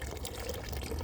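Water running from an outdoor tap in front of a house, drawn for a watering supply: a steady, even splash and trickle held at one level for the whole moment, fairly close and with no voices over it.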